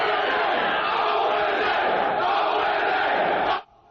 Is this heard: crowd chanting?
yes